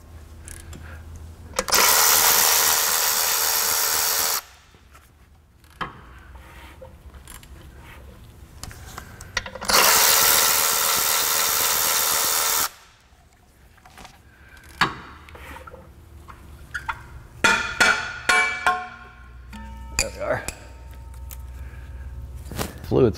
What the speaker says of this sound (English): I'm going to put a ratchet with a 19 millimeter on the end of this so that I can rotate the engine